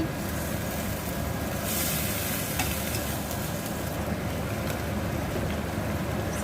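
Holy basil pork stir-frying in a pan with a splash of water, giving a steady, even sizzle and hiss throughout with faint stirring scrapes, moderately quiet and with no voices.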